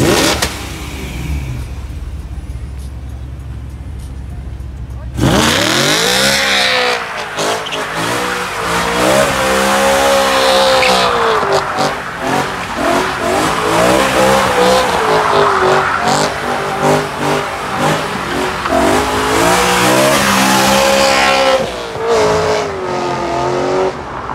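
BMW E90 cars pull away from a BMW M event one after another, each engine revving loudly through rising and falling gears close by, with an occasional brief tire squeal.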